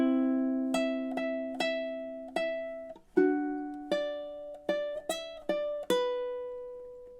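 Measures 25 and 26 of Jimmy Buffett's Margaritaville on ukulele, a run of plucked melody notes with soft harmony chord fills, each ringing out before the next, close and unaccompanied.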